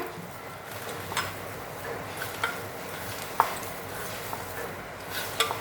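Peanut powder being stirred into a fasting bhaji batter: quiet, soft mixing with a few sharp spoon clicks against the bowl over a steady low background hiss.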